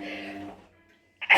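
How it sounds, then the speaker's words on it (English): A single sharp sneeze bursts out close up right after a stretch of a speaking voice, loud and abrupt, then cuts off. "Can't stop sneezing this morning."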